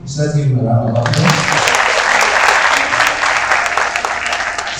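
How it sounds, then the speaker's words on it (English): An audience at a 2021 school accolades assembly applauds, with a voice over a microphone at the start before sustained clapping swells in and carries on steadily, loud and close, to the end. "Let's give him a round of applause."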